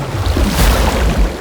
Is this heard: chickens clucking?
no